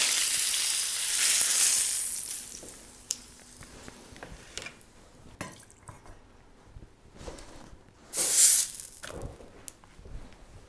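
Lamb rack searing in a very hot pan gives a loud hiss at first that fades to softer crackles and spits, then a brief sharp flare of sizzling near the end.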